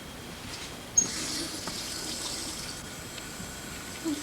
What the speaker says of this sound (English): Want some water, Rasa?